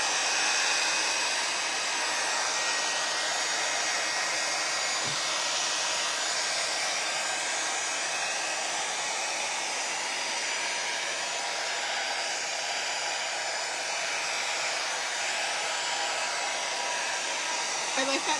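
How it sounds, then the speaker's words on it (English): A hair dryer runs steadily for the whole stretch, a constant airy whoosh with no pauses and no voices. "Just dry the inside. That's all we care about. Hair dryer."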